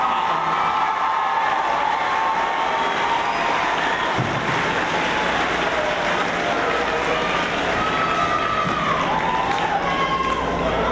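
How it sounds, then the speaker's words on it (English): Audience at an 8th grade school promotion ceremony applauding, a steady dense wash of clapping that fills the whole stretch with a faint murmur beneath. "If you'll give a round of applause to Marissa Jackson and Isabel Chris for all their hard work"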